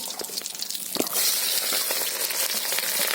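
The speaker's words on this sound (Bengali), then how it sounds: "বন্ধুরা জিরে ফোড়ন দিয়ে দিয়েছি" Cumin seeds tempering in hot oil on a village kitchen stove, a loud, close, continuous sizzle and crackle that swells after a brief rattling start.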